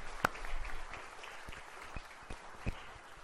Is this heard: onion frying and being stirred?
no